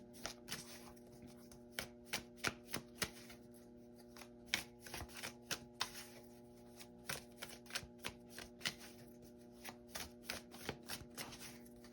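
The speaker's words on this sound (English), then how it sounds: "while I'm shuffling, waiting for a card to come out" Tarot cards being shuffled by hand nearby, quiet riffling and slapping bursts repeating in an uneven rhythm over a low steady hum.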